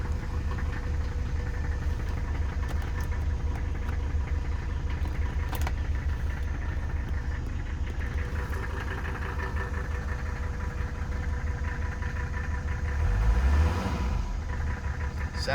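A 1984 Mercedes-Benz 300D W123 turbo diesel idles steadily with a close, rough, knocking clatter, then revs briefly near the end before settling again; no voices.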